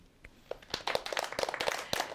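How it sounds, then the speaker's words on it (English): A live studio audience at a televised broadcast claps and applauds, starting with a few scattered claps and swelling into dense, sustained applause. "Please give a round of applause to our presidential candidates for 2019."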